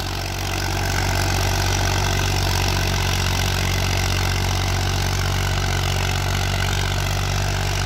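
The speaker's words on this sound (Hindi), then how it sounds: "एक खास बात है, ट्रैक्टर दम नहीं तोड़ रहा," A 1991 Massey 35 tractor with a cultivator attached idles nearby, its old diesel engine giving a loud, even, low rumble with a steady knock and no change in pace from start to finish.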